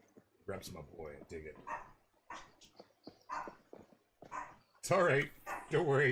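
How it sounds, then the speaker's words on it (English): A small dog barks and whimpers repeatedly in the background indoors while someone talks over it during a fishing tackle show. "I don't know if you hear the dog barking."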